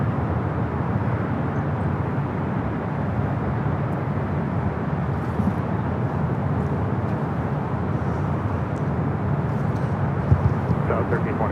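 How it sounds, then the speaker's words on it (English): An American Airlines Airbus A321 jet at LAX airport gives a steady, continuous low roar and rumble of engine noise, heard from a distance and holding even throughout. "It's an A321."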